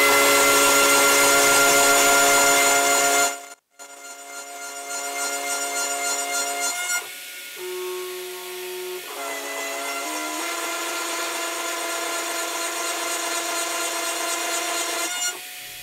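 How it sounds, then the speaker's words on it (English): A CNC router with an 8mm cutter boring into a wooden guitar body for a bridge post hole, a loud steady high-pitched whine with shifting tones as the cut changes, alone without talk. "it's a drilling or boring operation, and again it uses the 8mm"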